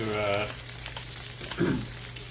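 A steak searing on a hot griddle gives a steady, close hiss and crackle of sizzling fat throughout, with a brief tonal hum at the start and a slight swell near the end.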